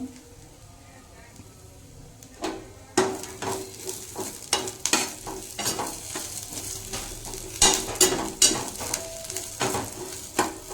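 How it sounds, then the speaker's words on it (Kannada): Ingredients for holige saaru fry and sizzle in a pan, with repeated scraping stir strokes of a spoon against the metal over a steady background hiss, close up and fairly loud. "ಇದು ನೋಡ್ರಿ ಚೆನ್ನಾಗಿ ಫ್ರೈ ಆಗಕತ್ತೈತೆ."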